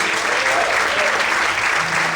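A church congregation applauds the Lord during a Portuguese-language sermon on the deacon Stephen, with steady, dense clapping filling the room throughout.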